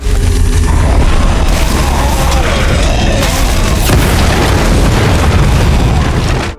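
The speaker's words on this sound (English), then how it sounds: "the hut where the fuel was stacked exploded" A hut stacked with fuel explodes in a loud, sustained roaring blast, with crackling debris and rumbling that fills the whole stretch before cutting off abruptly.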